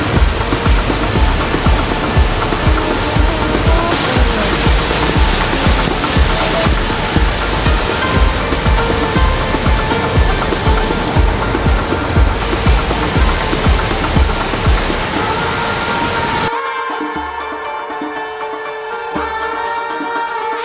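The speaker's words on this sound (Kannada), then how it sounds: "ನಂದಿಯ ಹಿಂದೆ ಈ ಒಂದು ಜಲಪಾತ ಬೋರ್ಗರಿತಾ ಇದೆ" Bhimeshwara waterfall roars behind the Nandi mantapa in a forest temple setting, a loud, continuous rushing wash of water that drops away sharply near the end, leaving a quieter background.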